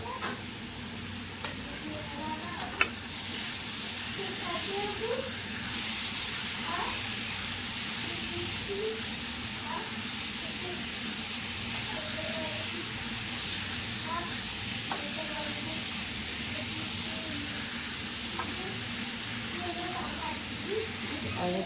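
Savory pancake batter cooks covered in a pan, sizzling and hissing steadily with steam throughout, while someone speaks over the cooking noise.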